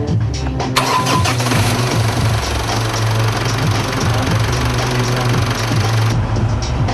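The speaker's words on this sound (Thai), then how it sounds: "ขณะนี้ทำการสตาร์ทเครื่องแล้วนะครับ รอบเครื่องอยู่ที่ 850 รอบ" A Honda Win motorcycle engine cranks and catches within the first second, then settles into a loud, steady idle of about 850 rpm with a dense, chugging rumble that cuts off abruptly near the end.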